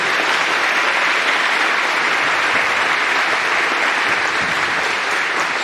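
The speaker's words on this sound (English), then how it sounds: "let's give a nice round of applause for Audrey" A symposium audience at a community college gives a speaker a sustained round of applause, dense steady clapping filling the whole stretch at close range with no talk over it.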